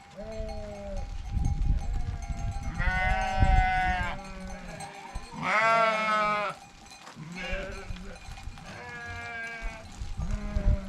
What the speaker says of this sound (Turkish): Koyunlar yine gidiyor.